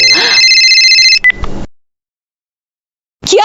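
A cartoon telephone rings with a bright, trilling electronic tone for about a second, followed by a brief blip and a clatter, then silence.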